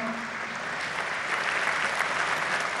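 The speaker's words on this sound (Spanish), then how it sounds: "Creo que también eso merece un aplauso" Applause from a large audience at a political speech in Argentina, a dense, continuous wash of clapping that stays steady and full throughout.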